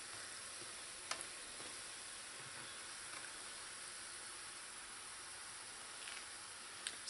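Pholourie dough balls frying in hot oil, a steady faint sizzle and bubbling hiss throughout with a couple of brief sharper pops near the start and end.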